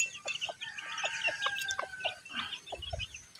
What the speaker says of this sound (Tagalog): May mga manok idol.